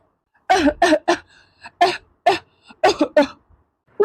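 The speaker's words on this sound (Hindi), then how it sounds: "मम्मी जी इतना खांस कर रहे हैं, इन्हें दवाई का असर क्यों नहीं हो रहा?" A series of harsh, repeated coughs from an older woman in a cartoon, in quick bursts, close and loud, with brief pauses between fits.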